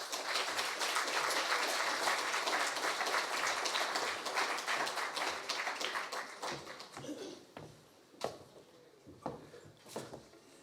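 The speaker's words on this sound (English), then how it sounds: "I want you to give him a huge round of applause." An audience applauds to welcome speaker Peter Finn at a talk on reconciliation, dense clapping that gradually thins out into a few scattered claps and light knocks before it stops.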